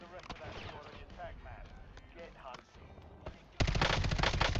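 Gunfire in the shooter Call of Duty Ops, a sudden loud burst of automatic fire near the end, following stretches of people talking over game sounds.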